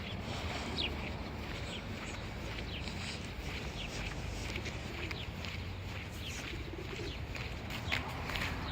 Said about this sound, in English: Look at the birds actually on the roof.